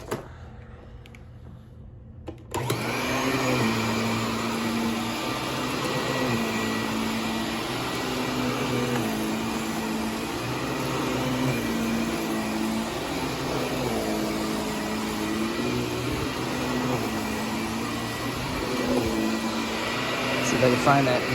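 A 1990s Filter Queen Princess III canister vacuum switches on after a quiet moment and keeps up a steady, loud motor whine with a faint pitch wobble as it works over carpet; someone talks intermittently over it.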